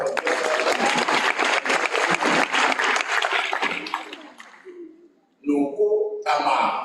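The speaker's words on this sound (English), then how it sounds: "We can give them a round of applause." An audience claps for graduates at a STADIO spring graduation ceremony, with loud sustained applause that tapers off, followed by a brief pause and a voice speaking.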